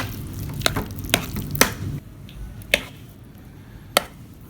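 Chopped steak fajita meat is stirred into a queso dip made with salsa: a steady scraping churn punctuated by several sharp clicks of the utensil against the bowl, close and alone.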